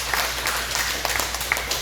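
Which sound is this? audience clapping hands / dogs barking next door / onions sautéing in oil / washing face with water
audience clapping hands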